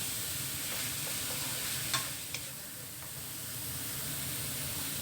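Chicken sautéing in a pan for Thai green curry, giving a steady close sizzle with a couple of sharp stirring clicks and no talk.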